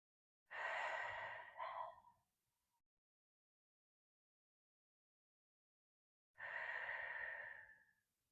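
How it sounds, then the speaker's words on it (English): Two deep, audible breaths during a Pilates mat stretch, each a long airy inhale or exhale lasting over a second, close and clear, separated by several seconds of silence. "Take a deep breath in."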